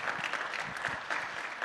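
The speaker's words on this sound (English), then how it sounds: "Give him a big round of applause one more time for Dr. Robert Pratt." A lecture audience at UGA applauds Dr. Robert Pratt during a Black History lecture series event. The clapping is a brief, dense, steady burst heard from a distance and fairly faint.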